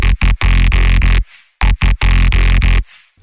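A fat synth bass run through an Ableton effects rack plays loud, chopped rhythmic bursts with brief gaps and a short noisy tail between phrases.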